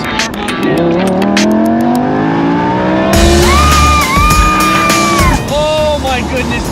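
Lamborghini Huracan in sport mode, its engine revving hard and rising in pitch before a burst of sharp downshift pops and blips, loud and close, with a voice talking faintly underneath.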